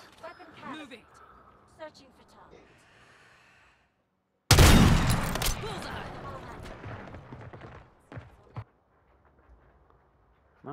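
Gunfire in a Call of Duty game: a sudden loud burst of shots with a decaying echo in the middle, with people talking before it and a few sharp clicks after.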